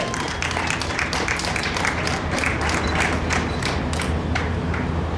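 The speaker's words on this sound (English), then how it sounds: "Let's give her a round of applause, ladies and gentlemen" Audience applause for a woman welcomed to the stage at a community gift-of-transportation event, a steady dense wash of many hands clapping that fills the room evenly for several seconds, with no talk over it.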